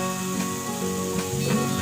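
Masala fish sizzles on a hot tawa, a steady, even frying hiss that runs unbroken and close throughout, with no voices over it.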